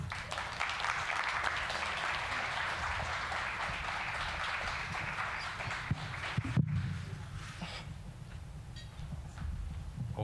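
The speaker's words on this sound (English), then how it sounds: "Let's give him another hand of applause." Audience applause following a spoken word poetry performance, steady clapping that carries on for several seconds, then a sharp knock and quieter room noise as it fades.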